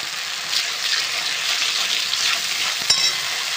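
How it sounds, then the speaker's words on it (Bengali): Ginger and green chili frying in a pan in a home kitchen, a steady close-up sizzle with light stirring scrapes and one brief clatter near the end. "আদা আর কাঁচা লঙ্কাটা কিছুক্ষণ ভেজে নিলাম।"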